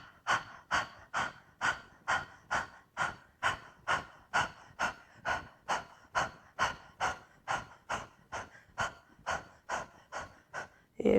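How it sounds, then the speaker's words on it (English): Deep diaphragmatic breaths during a yoga breathing exercise, a fast steady rhythm of about two forceful breaths per second repeated over and over, close and alone with no talk. "if you need a big inhale, just to reset, see if you can keep drawing that diaphragm in and up"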